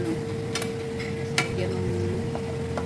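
Chicken sizzles steadily as it fries in a pan at close range, with a few light clinks and scrapes of a utensil against the metal.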